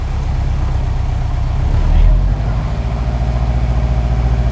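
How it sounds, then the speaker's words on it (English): A 2004 Subaru WRX STI in Java Black Pearl with 66k miles idles and blips its engine through the exhaust, a close, loud, low throaty rumble that swells briefly then settles into a pulsing idle. "I'm just going to come down and breathe the exhaust so you can hear them revving."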